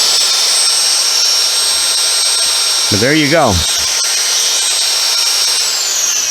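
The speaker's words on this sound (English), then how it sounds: "let's try a drill on it" A power drill runs on a Shell 3,000 watt portable power station: a short whine rises, wobbles and falls over about a second, against a steady background hum, with someone speaking briefly nearby.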